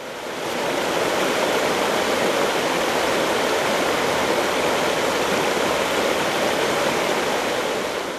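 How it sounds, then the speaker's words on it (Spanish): River water flowing steadily along a riverside path by the Jerte river, a broad, even rushing wash that holds constant and close for the whole stretch with no voices. "comenzamos la jornada con el sonido de las aguas en su hoy pausado discurrir"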